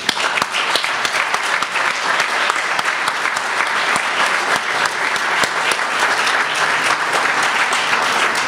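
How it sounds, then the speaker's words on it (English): Sustained, loud audience applause fills an awards ceremony for the 2013 Canadian Hillman Prize, a dense, even clatter of many hands clapping throughout. "Please give some applause to Simon Rowland, who's here tonight"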